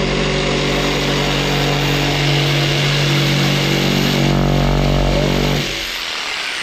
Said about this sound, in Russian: Но если есть вот эта вот пилка электрическая, лобзик.